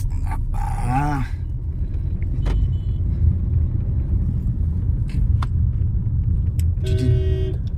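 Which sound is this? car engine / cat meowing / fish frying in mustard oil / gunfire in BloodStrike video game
car engine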